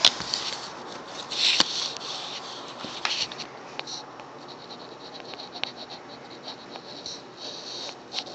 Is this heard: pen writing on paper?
yes